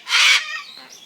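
A talking pet bird lets out a short, sharp squawk up close, followed by softer chirping sounds in a quiet room.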